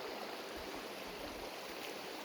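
A flowing river stream gives a continuous, even rush of water at a steady level, with no voices.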